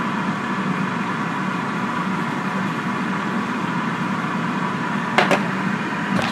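A GoWISE USA air fryer preheating gives a steady, even whir of fan and airflow, close and continuous, with a couple of brief clicks near the end.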